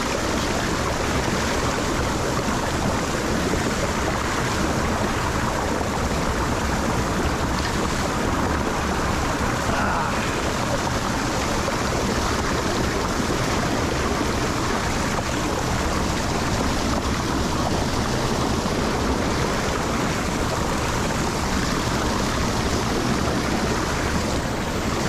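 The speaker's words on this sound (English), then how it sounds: "There's so much water coming in on both sides." Heavy storm runoff pours into a lake drain from both sides, a loud, steady rushing roar that continues without a break and with no talk.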